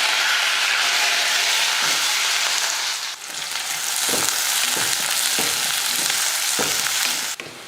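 Shallots, garlic and curry leaves fry in oil in a kadai with a loud, steady close-up sizzle and hiss, broken by a few soft scrapes of stirring.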